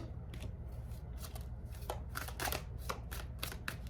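Tarot cards being shuffled and drawn, a close, quiet run of crisp riffling flicks and snaps in quick irregular bursts, with no talking over them.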